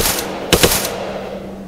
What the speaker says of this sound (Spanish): está escuchando los disparos